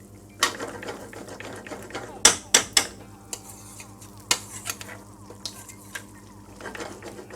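A thick chicken balti curry sauce simmers in a pan with a soft, steady bubbling sizzle, punctuated by sharp spoon clanks and scrapes against the metal, close and fairly quiet overall.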